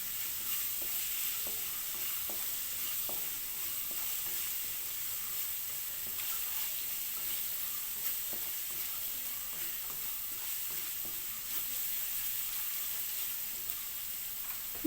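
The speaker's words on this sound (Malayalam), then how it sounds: "അതിൻ്റെ പച്ചമണം മാറുന്ന വരെ ഒന്ന് വഴറ്റി കൊടുക്കണം." Pork curry masala sautéing in a hot pan gives a continuous close sizzle and frying crackle, with steady stirring scrapes throughout and no talking.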